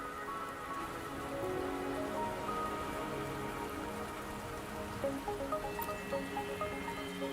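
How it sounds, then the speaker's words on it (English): Steady rain falls and patters on surfaces in a Wuthering Waves game scene, a dense continuous hiss with scattered drips and soft tonal music underneath, no voices. "Don't worry, the rain won't last much longer."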